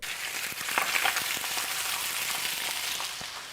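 Potatoes sizzle steadily in a hot pan, a continuous crackling hiss dotted with small pops and spatters, close and fairly loud.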